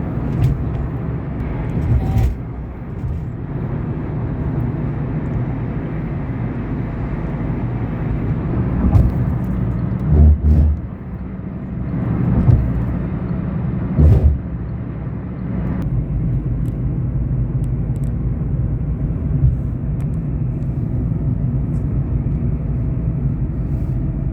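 Steady street traffic rumble with engines droning continuously, a few passing vehicles and occasional louder thumps and swells, fairly close and without speech.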